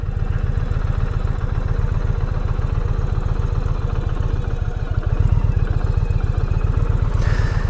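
A Challenger motorcycle with its Power Plus engine runs at a steady, throbbing idle, loud and close, with a rapid even firing pulse and some mechanical clatter, holding without pause.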